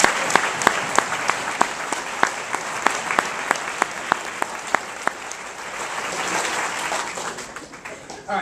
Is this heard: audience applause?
yes